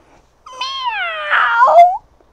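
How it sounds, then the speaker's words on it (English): A cat gives one drawn-out meow, close and loud, rising then falling with a rough, strained tail; nothing else is heard. "he came across a cat"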